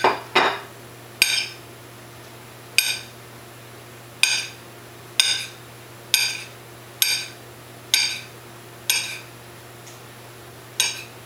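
A banana is sliced thin on a plate, producing about ten sharp, evenly spaced knife taps against the plate, each ringing briefly in a quiet room.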